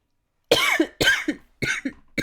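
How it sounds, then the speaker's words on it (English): Four sharp, separate coughs from one person close by, each a harsh burst with a short catch after it, spaced about half a second apart with no talk. "I'm sorry, my cough is getting really bad."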